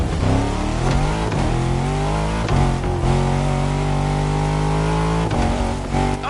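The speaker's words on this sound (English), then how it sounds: "Now going through a series of curves on a downhill slope. It's a slippery ride, but my old Defender is holding up well." An old Land Rover Defender V8 grinds downhill through slippery curves, its engine droning steadily up close with repeated revs and shifts in pitch, loud and continuous with no talking.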